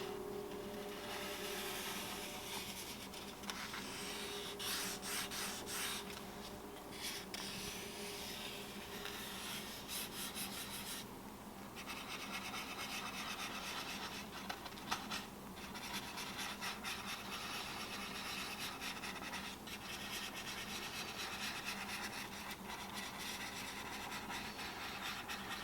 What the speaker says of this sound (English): Now I'm using the back of my fingernail as a burnisher here